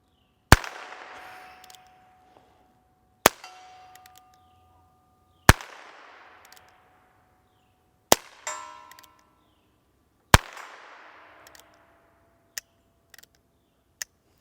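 Heritage Rough Rider revolver firing stinger and quiet rounds, six sharp shots spaced a couple of seconds apart, each a loud crack with a ringing decay, some with a metallic clatter after.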